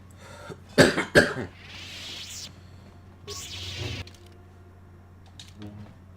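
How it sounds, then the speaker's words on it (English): A person coughs twice in quick succession, loud and close, then a softer throat sound follows over a steady low hum of a gaming setup. "To everybody who is annoyed at that cough, welcome to the club."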